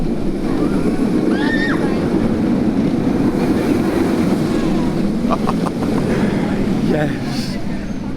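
The VelociCoaster roller coaster train roars through its roll at Universal's Islands of Adventure, a loud continuous rumble and rush of wind with excited voices talking and exclaiming over it.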